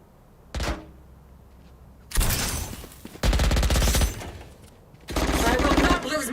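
A turret fires in a video game in three loud bursts of rapid shots, each lasting about a second, separated by quieter gaps with a brief thump near the start.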